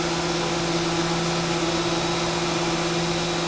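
A Haas VF2SS CNC mill machines custom knife handles with a steady, loud whirring drone and constant humming tones throughout, with no voices.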